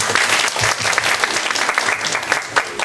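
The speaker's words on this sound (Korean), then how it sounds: "큰 박수 부탁드립니다" An audience claps steadily and fairly close after a church lecture, a dense patter of many hands with no voices on top.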